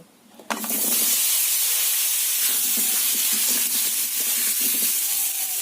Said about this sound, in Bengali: এবার কেটে রাখা আলুগুলো ভেজে নেব